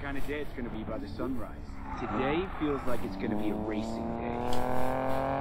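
A revving 4x4 car engine in the racing video game Need for Speed Payback rises and shifts in pitch under excited talking and laughter, ending in a sustained higher whine.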